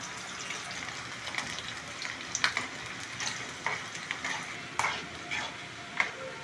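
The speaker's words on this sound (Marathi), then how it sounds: "आपल्याला हे असं परतत राहायचं आहे जोपर्यंत कांद्याला चॉकलेटी कलर येत नाही" Onions stir-fry over a high gas flame for mutter paneer biryani, giving a soft continuous sizzle broken by repeated scraping clicks of a spoon against the pan, fairly quiet and with no talking.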